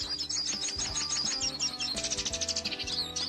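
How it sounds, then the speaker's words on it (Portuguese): Small birds chirp in quick repeated high notes over a rhythmic mechanical thumping and clicking in the background. "Tem passarinhos cantando, gente."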